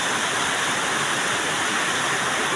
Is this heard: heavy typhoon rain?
yes